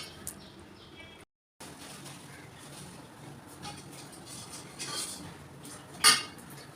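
An iron pan set on the stove to heat for neer dosa gives off a few soft clinks and scrapes over a quiet background, ending in one sharp, bright metallic clank.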